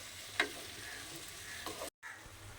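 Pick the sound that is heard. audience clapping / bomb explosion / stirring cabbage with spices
stirring cabbage with spices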